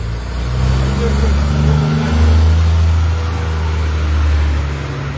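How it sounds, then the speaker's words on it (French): Car traffic on a street makes a steady, loud low rumble with engines swelling and fading as vehicles pass close by, filling the whole stretch. "il y a trop de bruit de voiture"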